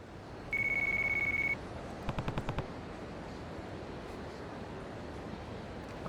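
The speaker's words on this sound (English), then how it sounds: "My phone." A mobile phone rings in the Yakuza video game: one sustained electronic tone, then a quick burst of short rapid pulses, heard over a steady low background hum.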